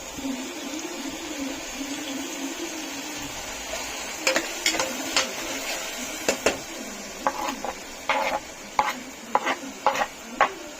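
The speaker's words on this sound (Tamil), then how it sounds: "கொத்தமல்லியில போட்டாச்சு. வதங்கட்டும்." Coriander leaves and ginger garlic paste sauté in a pan, a low sizzle followed by a run of sharp, rhythmic spoon clinks and scrapes against the pan, with no talking.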